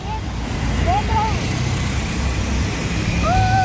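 A bus pulls up at a roadside stop near Kolhapur: a steady, fairly loud engine and road rumble runs throughout, with a few brief high whistling tones above it and faint voices in the background.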